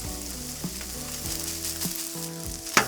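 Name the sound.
rice frying on a griddle for jambalaya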